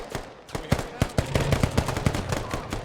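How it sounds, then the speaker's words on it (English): Rapid bursts of machine-gun fire in a flight combat video game crackle in quick succession, sharp and fairly close, with short irregular gaps between volleys. "hearing the gunfire from behind too"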